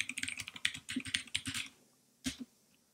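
Quick bursts of clicky computer keyboard typing, a rapid run of keystrokes followed by a pause and then a couple more taps, close and fairly quiet.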